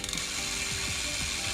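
Rapid ratcheting clicks from a tool screwing a bicycle pedal back into the crank, a close, continuous metallic pawl chatter with no talking.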